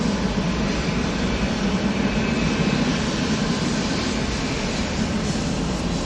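TUI airliner moving onto the runway at Manchester Airport, a steady broadband jet engine rumble and hiss, moderately distant and continuous, with no talk over it.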